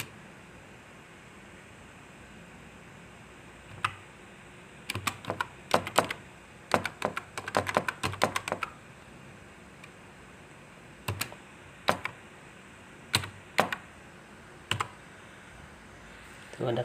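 Keys clatter on a computer keyboard during setup of a network interface, with bursts of rapid close clicks separated by quiet pauses, then sparser single taps toward the end.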